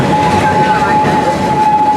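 The Busch Gardens park train rides along its rails with a steady rumble and a constant high tone, close and continuous, with faint background noise.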